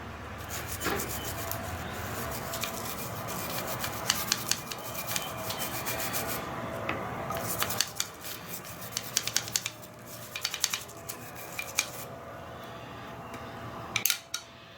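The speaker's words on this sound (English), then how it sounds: "I'll get that off with the brush." Close, scratchy scrubbing of a brush in hot water against Ruger Old Army .45 revolver parts, removing black residue, repeated strokes in quick rhythmic bursts with small clinks, no talking.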